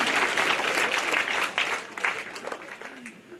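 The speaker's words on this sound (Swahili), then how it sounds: "Pigeni makofi." A gathered audience claps at a memorial service celebrating a life, a dense wash of steady applause that gradually thins and fades toward the end, with scattered louder individual claps.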